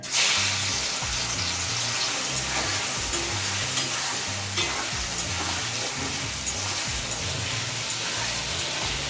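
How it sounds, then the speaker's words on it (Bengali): Prawns fry in hot oil in a kitchen pan, left in after chickpeas were fried in it. The sizzle is dense and steady, with stirring scrapes and clinks close by throughout, and no one speaks. "এবার হচ্ছে সেই তেলের মধ্যেই ভেজে নেবো হচ্ছে চিংড়ি মাছগুলোকে।"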